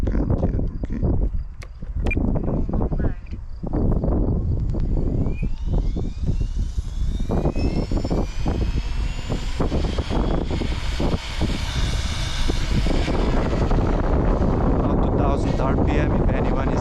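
An RC helicopter with a Spirit flybarless system spins up its rotor, a steady rising whine and whooshing blade noise that stays loud throughout, with wind buffeting and a person talking over it.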